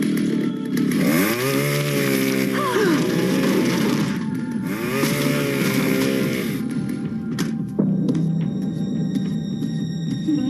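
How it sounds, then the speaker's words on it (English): A power tool roars in a cartoon, a harsh, loud, chainsaw-like whine that revs up and down in two long bursts before cutting to a sharper mechanical clatter. "the ear-splitting sound of power tools"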